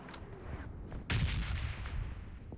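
Gunfire exchange in the mobile shooter PUBG Mobile Lite, a few quick shots followed by a loud booming blast that rings out and decays, close and dense.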